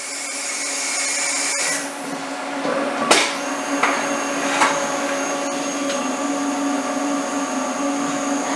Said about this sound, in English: now it's going to switch to the drill.